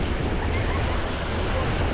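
Rough surf breaks along the beach at Playa del Carmen on a windy day, a continuous broadband roar mixed with wind buffeting the microphone, steady and loud throughout.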